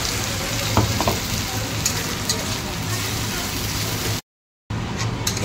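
A spice paste hits oil over already-fried onions, giving a loud, crackling sizzle with a steady hiss and a few sharper pops throughout, then a brief silent gap before the frying resumes.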